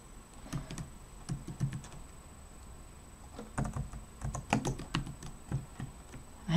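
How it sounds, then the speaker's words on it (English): Typing on a computer keyboard, quick bursts of soft clicking keystrokes with a pause in the middle, close and fairly quiet. "I'm going to type in here"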